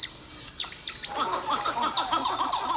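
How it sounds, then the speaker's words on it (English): Cotton-top tamarins give high, thin bird-like chirps and twitters in a dense rainforest, a quick falling whistle at the start followed by a steady run of short, fairly close calls. "Their bird-like chirps allow the group to stay in contact so that no one gets lost in dense jungle"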